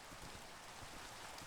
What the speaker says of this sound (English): Oh, now it's gonna rain.